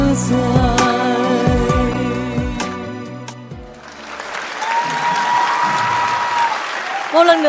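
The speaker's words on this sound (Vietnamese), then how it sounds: "Một lần nữa một tràng pháo tay" Music with a sung melody fades out, and a televised dance competition audience bursts into sustained applause that carries on loudly to the end, with voices over it.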